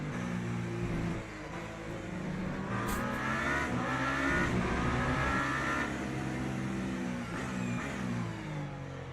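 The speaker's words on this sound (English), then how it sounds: "It's hard to listen to the engine here to hear in which gears you are" Race car engine in a racing video game, low droning tones with stepped pitch changes as gears shift and revs rise and fall, heard continuously at moderate level with no talking.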